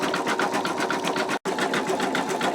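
An embroidery machine stitches an in-the-hoop wallet, a fast even needle chatter in steady rhythmic pulses, close and loud, with one brief break midway.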